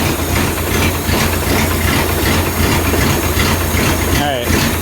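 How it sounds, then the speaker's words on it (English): Engine idling roughly with a misfire, a loud steady rumble with an uneven, stumbling pulse running through the whole stretch, close by with no talk over it. "Kind of sounds like it has a misfire."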